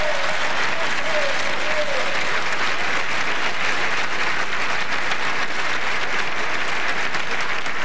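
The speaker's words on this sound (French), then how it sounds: "d'applaudir tous nos humoristes qui ont accepté de participer à ce spectacle ce soir" A live audience at a comedy show applauding the comedians, a loud and steady wash of clapping with crowd noise that holds for about eight seconds, with a few cheers in it.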